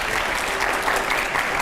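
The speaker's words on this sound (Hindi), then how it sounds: "जोरदार तालियां प्लीज" Steady, dense applause from a studio audience during a televised political interview, continuous and fairly loud for the whole stretch with no talk over it.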